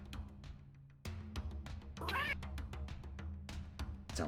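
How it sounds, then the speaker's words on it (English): A house cat meows several times close to a microphone during a tabletop Dungeons and Dragons session, one drawn-out call standing out amid soft clicks and a low room hum. "Sounds like a cat."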